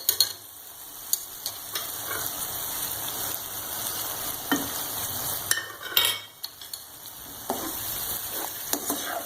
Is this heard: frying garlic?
yes